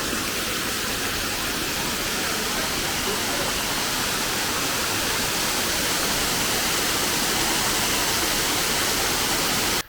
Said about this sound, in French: Et voilà la dernière cascade.